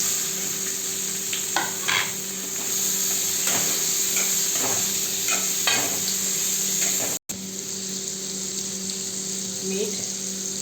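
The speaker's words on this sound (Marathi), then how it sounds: "आता यात चिरलेली काकडी टाकायची।" Chopped cucumber frying with black masala, red chilli masala and onion-garlic masala in a pan, a constant hissing sizzle with occasional stirring scrapes and a brief dropout partway through.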